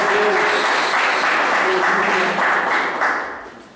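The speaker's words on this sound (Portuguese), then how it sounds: "dá uma salva de palmas para Deus muito forte" Church congregation applauding, a steady broadband wash of clapping with shouted voices over it, holding through most of the stretch before fading at the end.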